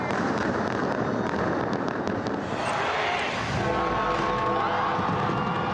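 A New Year fireworks display in London near Big Ben, a dense continuous roar of bursts and crackling with crowd noise blended in, loud and sustained throughout.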